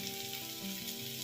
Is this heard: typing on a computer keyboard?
no